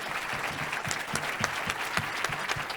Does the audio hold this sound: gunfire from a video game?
no